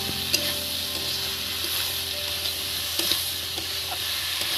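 Bitter gourd and potato pieces with turmeric and salt fry in an uncovered pan: a loud, continuous close sizzle broken by occasional sharp clicks of a spatula stirring.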